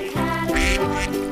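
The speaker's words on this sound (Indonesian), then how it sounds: "Yang ini mainan bebek." A toy duck gives a short burst of loud, nasal quacks, close by and on its own with no talking over it.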